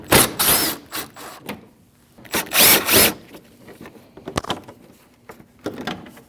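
A power tool spins out 8 mm bolts on a 2014-2023 Jeep Cherokee 2.4L four-cylinder, in several close, loud whirring bursts separated by short pauses and small clicks.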